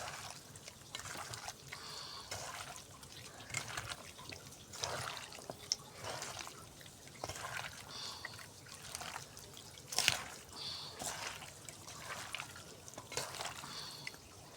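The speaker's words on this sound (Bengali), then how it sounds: "দিয়ে এখন এর সুন্দর করে আমি হাত দিয়ে মাখাই নেব" Spiced potatoes and fried onions being mixed by hand: soft, moist squelching and sticky squishing repeats in an irregular rhythm, fairly close but quiet, with no talking.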